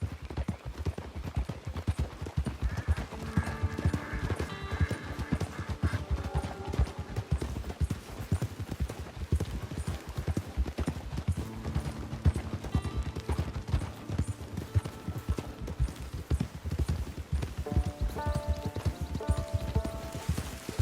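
Horse hooves clip-clop steadily in Red Dead Redemption 2, a loud, continuous trotting rhythm over outdoor game ambience and music-like tones, with no talk.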